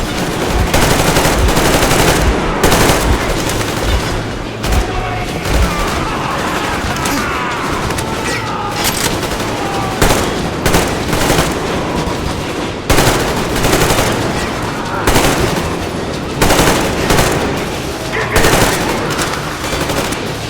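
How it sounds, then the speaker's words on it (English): Gunfire in the video game Metro Exodus: loud, dense bursts of automatic weapons and single shots rattle almost nonstop over several seconds, with brief lulls and occasional heavier booms. "Fortunately, my friends are shooting too."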